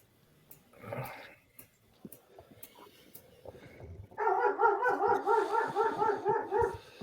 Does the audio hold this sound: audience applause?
no